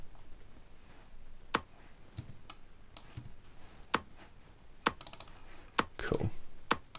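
Click percussion sample from a house drum mix, sharp isolated clicks repeating at irregular intervals over a faint background hiss.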